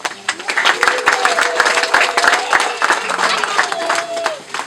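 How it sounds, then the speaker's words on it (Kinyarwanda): Audience applause at a Kwita Izina ceremony, crowd clapping in uneven bursts with some voices and cheers mixed in, fairly loud and close. "Nimuyizere amashyi."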